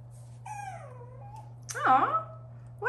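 Schnauzer puppies whimper and yip in a nursery while playing together, a few thin high whines rising and falling close by, ending in a louder squealing cry, over a steady low hum.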